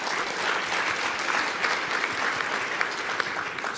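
An audience at a real estate production seminar breaks into applause, a dense, even wash of many hands clapping at moderate distance without any talking.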